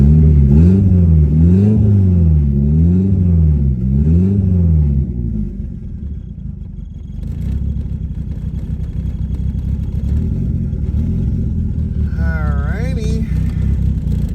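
A 1990 Eclipse GSX car with big brakes pulling away for its first drive, a loud, close engine rumble with rising and falling revs, then a steady lower drone, with a brief higher whine near the end.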